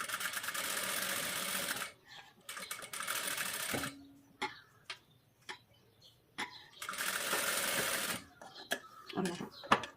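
A sewing machine stitches the lining of a blouse back piece in two steady running bursts, with quiet pauses and small clicks between them.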